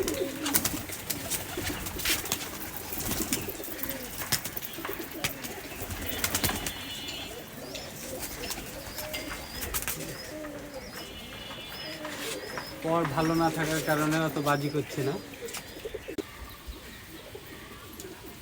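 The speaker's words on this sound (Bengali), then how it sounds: "এটা একটা নর কবুতর ঘন হাতবাজির" Male Rajshahi local Giribaj pigeon, a dense hand-tumbler, cooing in a loft, soft repeated low coos amid other bird sounds and flapping, close by, under steady talk by a man.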